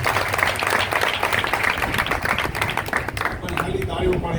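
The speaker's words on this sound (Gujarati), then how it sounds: "ખાલી તાળીઓ પાડેલી" An audience at a religious discourse session claps, steady applause filling the whole stretch and easing slightly near the end, with some voices mixed in.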